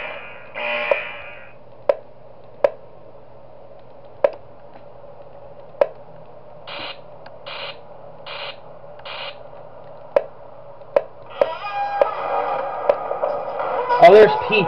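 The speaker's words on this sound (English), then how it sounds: "I gotta sound the alarm for Wario" Four quick electronic alarm buzzer beeps sound in a row in the game Five Nights at Wario's Rebooted 2, over a steady background of sparse ticking clicks and game noise.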